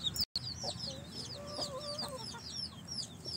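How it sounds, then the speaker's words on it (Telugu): A hen clucks softly beside her chicks on a natural organic farm, with a steady chorus of high chick peeps throughout and a faint, low, continuous background hum. "కోడి పిల్లలు చూడండి, మూడు పిల్లల్ని వేసుకొని తిరుగుతుంది"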